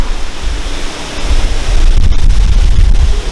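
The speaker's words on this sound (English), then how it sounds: "Wow, the wind." Strong outdoor wind roars steadily across the microphone beside a pickup on an Alaska road trip, growing louder and gustier partway through, with no voices.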